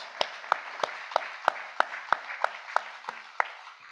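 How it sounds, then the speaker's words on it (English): At a community Firewise presentation on evacuation routes, a small group claps slowly and evenly, about a dozen distinct quiet claps in a regular rhythm with no talking. "we should give them a round of applause"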